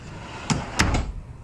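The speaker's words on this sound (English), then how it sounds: "let me close these drawers for you" A couple of quick wooden thuds and a soft slide as solid-wood-fronted plywood drawers on metal ball-bearing slides are pushed shut inside a 2020 Flagstaff Super Light 26RBWS travel trailer, fairly close, with faint background hum.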